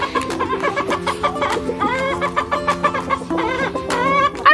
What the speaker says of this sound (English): as you can hear, there's chickens around me and I grabbed one.